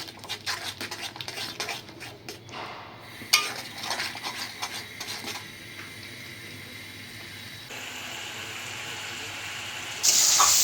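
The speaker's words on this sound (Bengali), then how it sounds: "এক চামচ ধনিয়ার গুঁড়ো দিয়ে দেব পরিমাণ মতো লবণ মশলাটা ভালো করে কষিয়ে নেব" A spatula scrapes and clatters in a pan as spice paste with coriander powder and salt is stir-fried at a village kitchen, with a steady sizzling hiss underneath and no talking.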